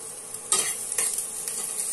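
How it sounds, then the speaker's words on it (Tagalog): A metal utensil stirring patola and sotanghon soup with sardines in a pot, giving a bright, close scraping and sizzling wash with a sharp clatter at the start and softer knocks after, alone without talk. "Sabi na ni Miss ko, maingay daw itong gamit ko. Kaya medyo landahanin ko yung paghahalo ha."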